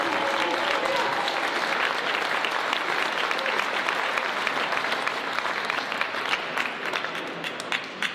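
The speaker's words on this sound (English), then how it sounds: "Give yourselves a round of applause." An audience at an indoor gathering applauds, a dense, continuous wash of clapping that holds steady and loud for several seconds before thinning slightly toward the end.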